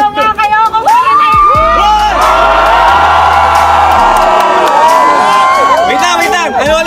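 A large crowd at a car reveal event shouts and cheers loudly all at once, a dense roar of whoops and yells swelling and sustained over several seconds, with a booming bass hit underneath.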